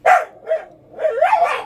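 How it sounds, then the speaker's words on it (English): A dog barks close by, a loud sharp bark, a shorter second bark, then a drawn-out whining bark, heard alone indoors. "Pardon my dog barking."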